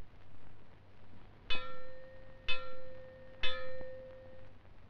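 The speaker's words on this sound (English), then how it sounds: "Or you may hear 3 gongs like this." Three ringing metallic gong strikes sounded as a fallout warning, about a second apart, each with a sharp attack and a sustained shimmering tone, over faint background hiss.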